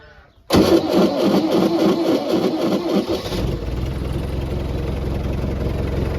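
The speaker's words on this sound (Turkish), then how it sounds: "yem karma makinemizi çalıştırabiliriz" A feed mixer machine's engine cranks and catches to a loud, steady run, then settles into a lower, even idle, heard alone without talk.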